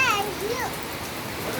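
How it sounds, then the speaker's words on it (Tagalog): Steady rain falls with an even, hissing patter throughout, while a voice briefly chirps over it near the start. "Look, it's raining."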